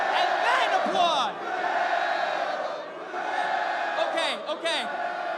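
A TNA wrestling crowd fills the arena with a continuous, loud wash of cheering and yelling, with brief whoops standing out near the start and end.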